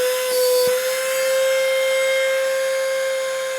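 Cordless car vacuum cleaner running with a loud, steady high-pitched motor whine and airy suction hiss, close and continuous, with a brief thump near the start.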